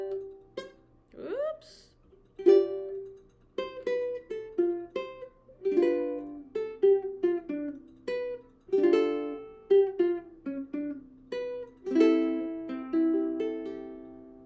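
A ukulele is picked fingerstyle through the second line of a song. Single plucked notes ring and decay in a steady, gentle melody, fairly quiet and close, with a quick sliding pluck near the start.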